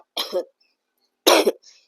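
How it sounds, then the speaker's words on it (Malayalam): Two harsh, close coughs about a second apart, each a short rough burst followed by silence. "നല്ല ചുമയാണ്"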